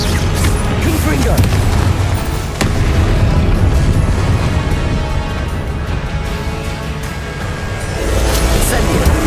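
Confringo explosive spell cast in Hogwarts Legacy, loud booming blasts and bursts over a dense rumbling game soundscape, with a sharp impact early on and continuous heavy low-end energy throughout.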